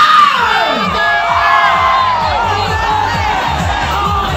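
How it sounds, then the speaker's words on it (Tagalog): A large rally crowd roars and shouts the name Duterte together, a loud, dense, sustained wall of voices with high cheers and whoops carrying throughout. "Isang hiyawan Duterte!"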